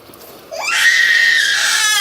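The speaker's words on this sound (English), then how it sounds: "I can't handle this fucking screaming shit." A child lets out a loud, sustained scream close by, rising sharply after a quiet start and holding at full intensity, heard indoors at a flooded grandmother's house.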